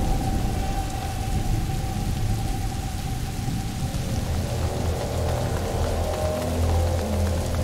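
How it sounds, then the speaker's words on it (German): A thunderstorm in the video game A Plague Tale: Innocence brings steady, dense rain and a deep rumble of thunder that rolls on throughout, loud and continuous with no talk. "Oh, ein Gewitter, liebe ich ja."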